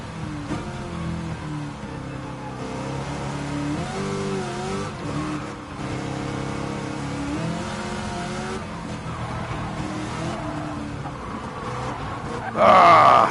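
An Audi race car in Gran Turismo, driven with a G29 wheel, revs and roars continuously with rising and falling engine pitch through gear changes, ending in a sharp tire squeal.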